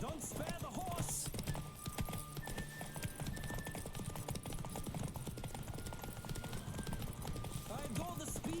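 A horse gallops hard during a race in the video game Witcher 3, its hooves clip-clopping in a fast steady rhythm with an occasional whinny, loud and close under constant game voices and background sound.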